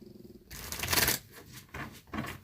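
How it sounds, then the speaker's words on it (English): Tarot cards being shuffled by hand, a dense riffling flutter in several short bursts with brief pauses between them, close and fairly loud with no talking. "Let me shuffle one more time."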